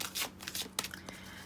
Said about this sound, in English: let's have a bit of a shuffle